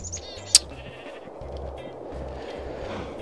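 Sheep bleating in Minecraft, a German Let's Play around a herd of cows, with one brief bleat near the start over a steady low game hum and no talk.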